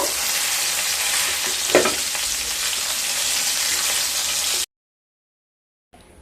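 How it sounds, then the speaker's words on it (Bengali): Steady loud sizzling of rohu fish frying in hot oil, continuous for several seconds, then abruptly cut to silence before a brief return. "সমস্ত মাছ খুব ভালো করে ভাজা হয়ে গেছে"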